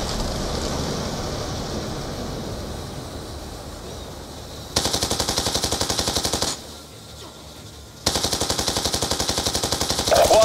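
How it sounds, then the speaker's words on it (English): Automatic gunfire in Call of Duty: Black Ops 2, two loud sustained bursts of rapid machine-gun shots up close, separated by a brief quieter gap, over a steady background of battle ambience and wind-like noise. "Bravo receiving effective enemy fire."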